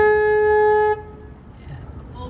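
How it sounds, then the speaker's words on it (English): A tour boat's horn on the San Antonio River gives one long, steady honk lasting about a second, then cuts off, leaving a low background rumble and murmur. "I will also be honking the horn just as a heads up."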